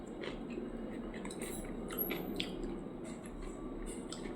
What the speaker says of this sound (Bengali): অনেকদিন পর খাচ্ছি আলু কাবলি।